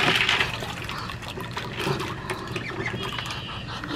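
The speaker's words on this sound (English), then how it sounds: "And now we gotta go change the duck water." Water being poured and sloshed while a duck water container is changed, splashy gurgling and trickling bursts close up, with faint duck-like calls mixed in and no talking.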